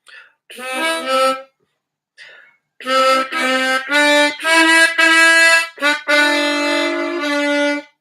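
Harmonica phrase played by blowing and drawing holes, several sustained reedy notes in short groups after a brief opening burst and a pause, close and fairly loud, played alone.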